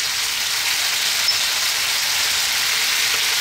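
A curry powder of cumin, coriander, chili and turmeric fries in a pan alongside potato and cabbage, giving a steady, dense sizzle that stays loud and even throughout, with no speech.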